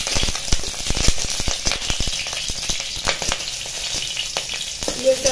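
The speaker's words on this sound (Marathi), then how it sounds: "तेलामध्ये 5-7 हिरव्या मिरच्या टाकून घेते आणि त्या पण भाजून घेते." Five to seven green chillies fry in hot oil for a Maharashtrian shingori amti, giving a loud, continuous sizzle broken by sharp pops and spatters, with no talk.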